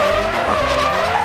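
A toy race car gives off a loud, sustained screeching skid, one continuous wavering squeal close by with no talking.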